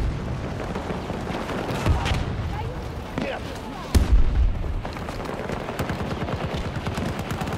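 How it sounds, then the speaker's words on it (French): A grenade explodes in a video game, a heavy boom in the middle of constant rattling gunfire and low battle noise, with voices talking over it. "une grenade"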